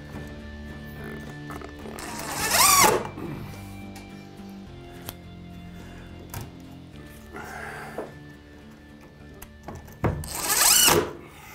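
A power drill drives mounting screws into a box during a drywall install, giving two loud, rising whirring bursts a few seconds apart with a softer brief run between, against a quiet room.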